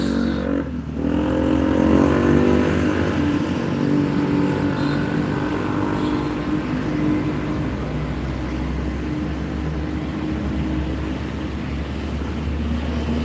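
Steady road traffic in front of a bus terminal, with trucks and minibuses and a green LPG truck passing. A continuous, fairly loud engine rumble and tyre noise swells early on, then carries on as a constant drone.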